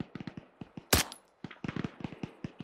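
Rifle and machine-gun fire in the military shooter ArmA 3: a string of sharp, separate shots in uneven bursts, mostly mid-distance, with one louder, closer blast near the middle.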